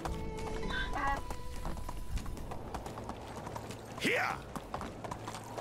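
Donkey hooves clip-clopping in the medieval life-sim game Medieval Dynasty, a steady moderate-loudness hoof rhythm over ambient game sounds, with a short whinny-like call rising near the end.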